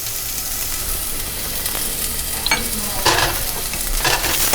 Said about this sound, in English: Stir it up until translucent. Also, put garlic,